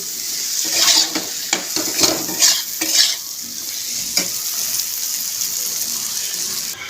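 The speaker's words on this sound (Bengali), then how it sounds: "এক চামচ লঙ্কার গুঁড়ো দিলাম এবারে আর একটু কষিয়ে দেব" Spices frying with chilli powder while being stirred hard in a pan, a dense sizzle with rapid scraping strokes in the first half easing to a steadier hiss, close and loud, no voices.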